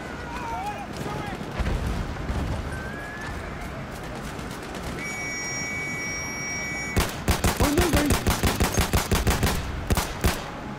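Rapid .22 rifle gunfire in a first-person shooter game, a dense burst of sharp cracks in the final seconds after steady background game noise and scattered distant shots; someone talks over parts of it.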